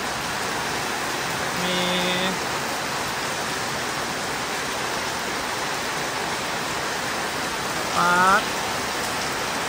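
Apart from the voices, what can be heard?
heavy rain falling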